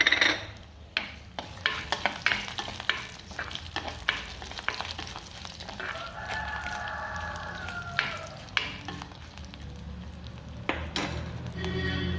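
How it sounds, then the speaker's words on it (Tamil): Mustard seeds, curry leaves, crushed garlic and dried red chilies sizzling in oil, with sharp popping and crackling bursts over a soft hiss and a brief whistle-like tone midway. "கடுகு பொரிச்சு இதோட கொஞ்சமாக கருவேப்பிலை சேர்த்துக்கலாம்"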